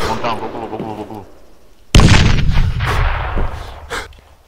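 A grenade explosion and gunfire in the military shooter game Arma: a sharp, loud blast hits midway, followed by a rumbling decay with further scattered shots, while voices talk over radio chatter before and during.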